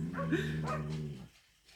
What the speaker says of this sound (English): Now my dog is getting involved.